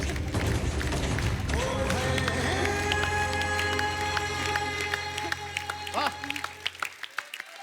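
Loud applause from a television comedy show studio audience, dense clapping and crowd noise that thins out toward the end into scattered claps.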